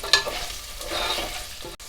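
Onions frying in a pan of green spicy mince curry, giving a steady moderate sizzle with scraping stirs near the start and a brief drop near the end, with no voices.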